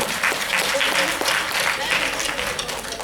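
A hall audience at a Berhampore youth choir stage event claps in dense, sustained applause with a voice speaking over it throughout.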